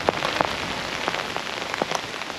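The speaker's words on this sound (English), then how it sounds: "still just rain and wind." Heavy storm rain drums on a camping tent in a steady close patter, with distinct louder drops striking the fabric at irregular moments throughout.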